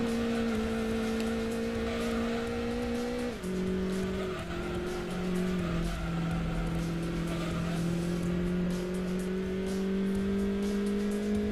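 Citroen Saxo racing in Gran Turismo 2, a loud sustained engine whine that holds steady, drops sharply at a gear change, then climbs slowly again, with faint tire squeal running underneath throughout.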